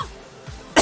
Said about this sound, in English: Man, I wish this little cough would go away.